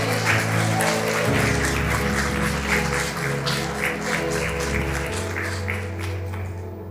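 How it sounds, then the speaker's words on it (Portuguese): A church congregation claps continuously, dense scattered hand claps over a sustained musical drone, fading slightly toward the end. "Aplauda ao Senhor."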